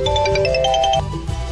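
A telephone ringtone plays a brief rapid run of bright electronic notes, close and fairly loud, then cuts off.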